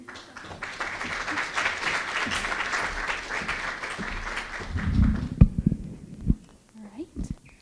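Audience applause at a community literacy council gathering, honoring students, volunteers and community members; steady clapping for about five seconds, then tapering into a few scattered claps and low voices near the end.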